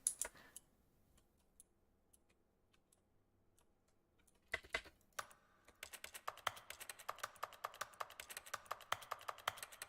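Computer keyboard keys clicking in The Stanley Parable video game, a few scattered taps at first, then a quiet, dense run of rapid clicks.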